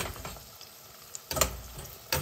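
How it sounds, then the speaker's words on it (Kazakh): Onions fry in a pan for kuyrdak, a soft steady sizzle with a few brief clinks or stirring knocks near the end. "Міне пиязымыз әдемі қуырылды."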